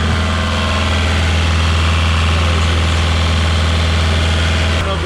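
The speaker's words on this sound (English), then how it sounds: "Take it down into the engine room. She's running real well." A boat's inboard engine runs in its engine room, heard up close as a loud, steady droning idle with constant low rumble and vibration throughout.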